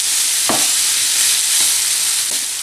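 Minced meat frying in a pan makes a loud, continuous sizzle, broken by three soft scraping strokes from a spoon stirring and breaking up the meat.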